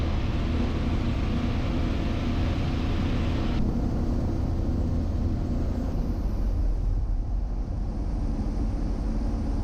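Light aircraft engine droning steadily and loudly throughout, with a faint rise in power as the plane approaches to land, wind and cabin noise mixed in, no talk.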